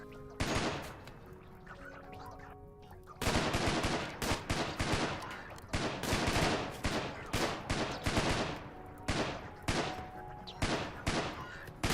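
Rapid gunfire in RimWorld as colonists shoot at Militors, dense overlapping bursts of shots that start after a short lull and keep going, loud and close, with a voice talking faintly underneath.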